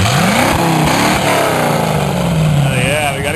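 A Wrangler 350 engine is cranked up and revved hard. Loud, close engine roar rises and falls in pitch with each throttle blip and runs continuously under the noise.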